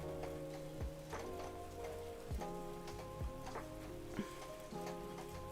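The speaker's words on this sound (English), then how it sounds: "You hear all that rain, Miss Murdoch?" Rain falls outside in a steady patter on a surface, with occasional distinct drops and ticks standing out and no voices over it.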